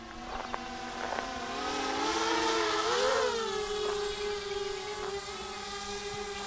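A fast 250mm FPV racing quadcopter whines past with a sharp propeller buzz whose pitch swells and bends as it swoops close near the middle, then settles into a steady, moderately distant drone.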